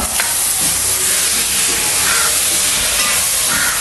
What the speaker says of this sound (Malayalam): അതാ ഇതിൻ്റെ ഒപ്പം തന്നെ ഞാൻ തക്കാളിയും കൂടി ഇട്ട് കൊടുക്കുകയാണ്. ഇതൊന്ന് വഴക്കട്ടെ.